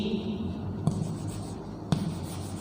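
Pen or chalk writing during a science lesson, a soft continuous scratching under low room noise with two brief sharper taps, close and quiet.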